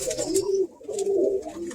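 Birmingham Roller pigeon cooing close by in steady, low rolling phrases with a brief pause midway, over faint rustling background.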